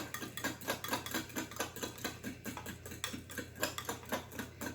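Biscuit dough is stirred with cold water for cat-head biscuits, giving a steady, rhythmic scrape and clink of a utensil against a bowl, repeated quickly and evenly at close range under a low background hum.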